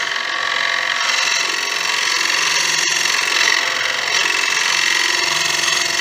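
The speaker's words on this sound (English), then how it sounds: "I'm just going to give it a quick scrape" A light scraping tool held against a cross-grain turned wood lamp base spinning on a lathe, steady whirring hum with thin scraping texture and one sharp click partway through, close and continuous.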